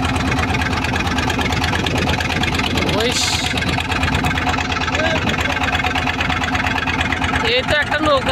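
A motorboat engine on the Jamuna river drones loudly and steadily close by, with a constant throbbing hum throughout as people talk over it.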